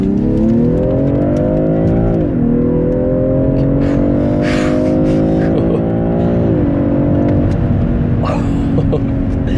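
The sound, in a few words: BMW M340i xDrive G20 accelerating hard in launch control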